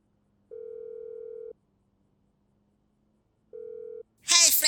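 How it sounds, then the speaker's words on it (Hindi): A mobile phone placing a call in GTA 5, two clean steady ringback tones separated by a pause, then a voice starts speaking. "अभी लगाता हूँ फ्रैंकलिन को"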